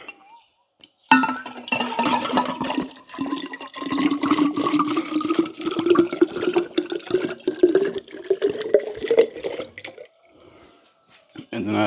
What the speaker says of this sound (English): You're gonna get some water refill ASMR.